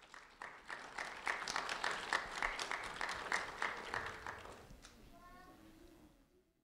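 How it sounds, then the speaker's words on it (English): Quiet applause at an award ceremony honoring a third-grade student, a run of rapid claps rising and then tapering off, with a voice briefly heard near the end. "a round of applause for Mauricio Manuel, please"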